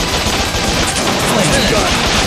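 A handgun fires in the video game Bot Vice, a dense rapid stream of loud electronic shots packed into a short burst over a constant busy game soundtrack.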